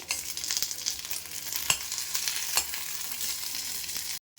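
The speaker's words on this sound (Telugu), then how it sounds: "ఇప్పుడు ఒక 2 టమాటాలు కూడా వేసుకుందాం." Two tomatoes tossed into a frying pan with green chillies and onion, a steady close sizzle with a few sharp spatula clacks, ending in a brief moment of silence.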